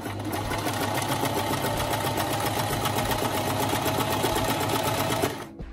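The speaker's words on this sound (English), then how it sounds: "We need to do this separately so then we can sew the edge." A sewing machine stitches through outer fabric and lining, its steady, fast mechanical whir running continuously and close up before stopping abruptly at the end.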